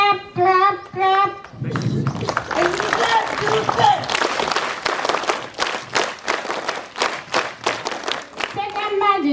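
A school audience at a mathematics day event claps in a burst of rhythmic applause between children's voices, with individual hand claps pulsing steadily toward the end.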